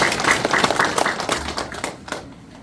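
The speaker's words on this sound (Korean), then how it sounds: "큰 박수 한번 해주십시오." Audience applause at a Korean policy forum on senior citizens in a super-aged society, dense clapping from a seated crowd that swells then thins out and fades over a few seconds.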